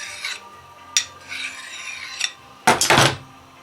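Heavy splitter blade drawn along a sharpening steel, several short scraping strokes at irregular intervals, the last one louder and rougher, close up with no talk.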